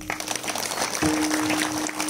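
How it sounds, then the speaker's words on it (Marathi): An audience clapping for themselves at a devotional gathering, a dense patter of many hands, moderately loud, with a steady sustained tone running under part of it. "स्वतःसाठी एकदा टाळ्या वाजवा"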